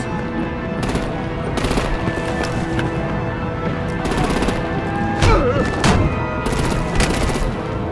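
Gunfire and artillery in a Batman video game: rapid bursts of automatic fire and heavy thuds repeat over a continuous loud din.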